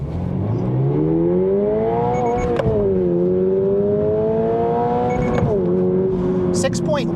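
A 2024 Subaru BRZ tS sports car launches hard on a level road, its engine note rising steadily in pitch through the gears with brief dips at each shift, loud and sustained from inside the car.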